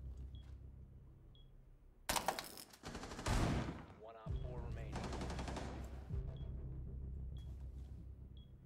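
Rapid gunfire from a weapon emptying a full magazine in the tactical shooter Rainbow Six Siege, loud sustained bursts over a low rumble, with a brief sharper volley near the start.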